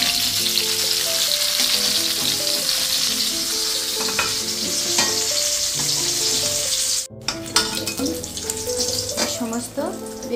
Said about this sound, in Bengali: এইভাবে আমি সমস্ত বেগুনগুলোকে ভেজে নেব।